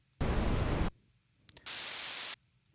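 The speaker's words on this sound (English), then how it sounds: "Just different types of that staticky radio noise." A synthesizer noise module puts out two separate bursts of loud, pitchless static white noise, each under a second long. The bursts are split by a short quiet gap that holds a faint click.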